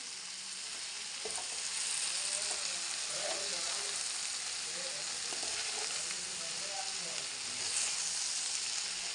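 Spices such as cumin and coriander sizzle in hot oil in a frying pan for an okra dish, with a steady hiss and occasional scraping stirs, close and continuous.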